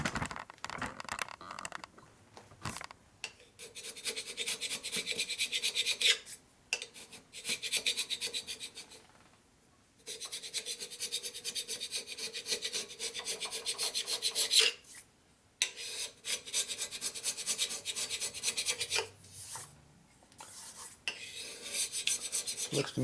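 Steady rasping scrapes of a blade stripping old gasket material from the cylinder head of a 1983 Harley FXRT 80ci Shovelhead engine, coming in long strokes separated by short pauses, close and loud with no talking.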